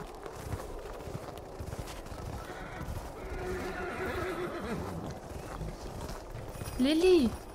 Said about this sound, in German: hörst du die Pferde?